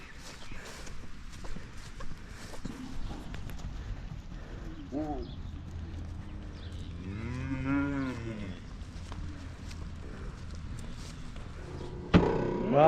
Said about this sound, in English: There's another cow here that they're going with